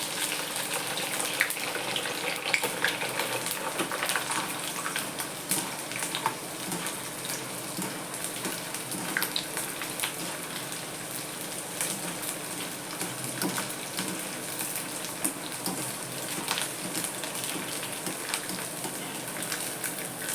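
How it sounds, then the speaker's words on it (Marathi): Sago pearls (sabudana) frying in hot oil seasoned with chopped green chillies, a dense, steady sizzle and crackle running continuously for the whole stretch, fairly close and with no talking over it. "थोडं थोडा साबुदाणा टाकायचा तळायला"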